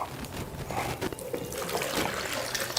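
Water poured into a jug to make kombucha, a steady near trickle and splash running throughout the short span, with faint background noise.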